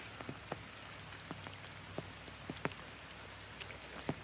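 Rain falls on an umbrella on a hiking trail along the Allegheny Trail, a soft steady patter with scattered sharper drop taps, faint and close.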